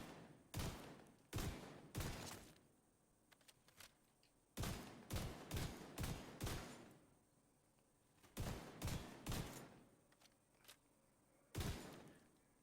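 Gunfire from the Mop and Bucket secondary weapon in The Division 2, loud close bursts of several rapid shots in groups with short pauses between them, no talking.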